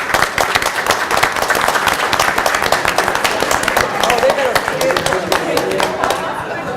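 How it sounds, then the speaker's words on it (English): A round of applause from the audience at a school board of education meeting: dense, loud clapping that runs steadily through the whole stretch, fairly close. "Give a round of applause."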